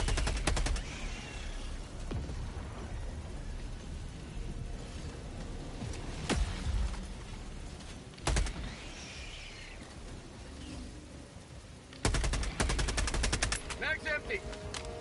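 Gunfire in the video game Helldivers 2: sharp bursts of shots and rapid automatic fire cut in at intervals over a steady din of battle, loud and close, with another dense volley near the end.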